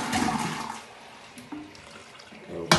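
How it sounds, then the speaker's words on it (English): A toilet flushing after cleaning, with a broad rush of water swirling and draining for nearly three seconds, tapering off before a sharp clatter near the end. "Put the lid down, have another flush."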